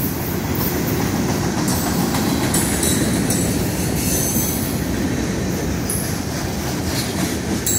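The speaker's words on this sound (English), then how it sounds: "the one on the other side is Q647. It runs Chicago," Freight train Q647, running Chicago to Waycross, Georgia, rolls past on a double-track main line with a steady, loud, continuous rumble of wheels on rail and faint high squeals throughout.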